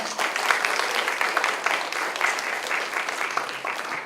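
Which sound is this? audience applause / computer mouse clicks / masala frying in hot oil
audience applause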